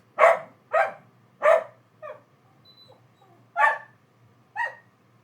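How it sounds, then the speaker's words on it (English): Dogs barking outdoors in a series of sharp, loud barks, five or six spaced bursts with a short pause midway, one or two sounding thinner and yip-like, alone without talk. "dogs interrupt us"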